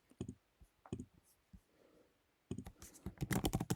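Computer keyboard typing in short bursts of light clicks, a few scattered taps, then a pause, then a quicker run of keystrokes, close and fairly quiet.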